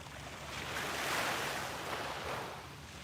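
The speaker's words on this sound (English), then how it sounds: "the waves sound amazing today, Joe." Ocean waves wash onto a beach in one steady, broad rush that swells and eases, with some wind noise across the microphone and no voices.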